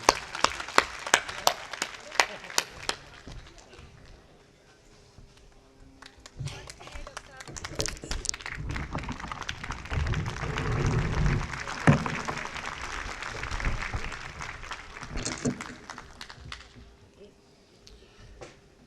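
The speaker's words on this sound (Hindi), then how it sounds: "हम बहुत ज़ोरदार तालियां बजाकर प्रेम के इस पुजारी को बुलाना चाहते हैं।" At a Hindi kavi sammelan poetry gathering, the audience claps to welcome a poet to the stage: scattered sharp claps, then a sustained burst of applause, with someone speaking over the crowd.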